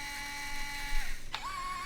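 A small motor on a 3D printed RC crane whirs as it raises the ball, a faint mechanical whine that dips and then climbs again partway through, heard alone with no talking.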